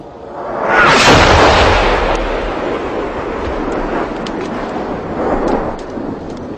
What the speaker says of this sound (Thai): มีเสียงวีดของลูกคอลูกแรก เลยผ่านข้ามหัวไประเบิดเสียงดังสนั่นตรงท้ายขบวน